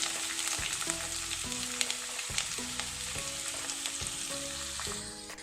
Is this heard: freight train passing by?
no